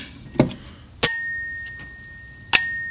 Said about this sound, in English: Now I'm going to move the bell and I'm going to let you hear what it should sound like when it's adjusted badly